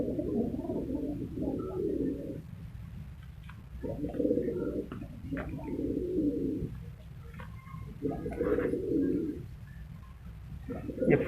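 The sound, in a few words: pair of black Peshawari pigeons cooing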